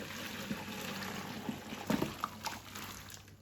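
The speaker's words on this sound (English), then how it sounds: "pour the chicken into the colander" Simmered chicken soup poured from a pot into a colander set over another pot in a backyard kitchen, a steady low splashing trickle with a few louder sloshes partway through.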